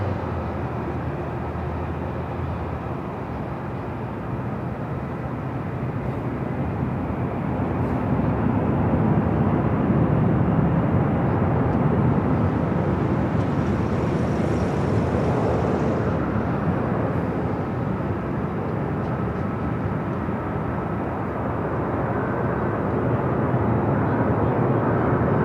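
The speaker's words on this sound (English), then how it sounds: "Next arrival is Southwest Airlines Flight 2217 coming in from Oakland," A Southwest Airlines Boeing 737-800 arriving from Oakland lands at Los Angeles International Airport, a loud, steady broadband jet roar that swells slightly as it passes and holds strong throughout.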